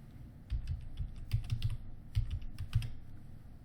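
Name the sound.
typing a username on a computer keyboard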